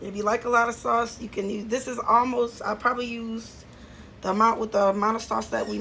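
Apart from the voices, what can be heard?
None of the usual background noises is heard.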